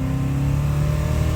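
A restored 1965 Chevrolet Nova Super Sport with its original 283 V8 revs steadily and close by, a deep, continuous engine rumble that stays loud and even throughout.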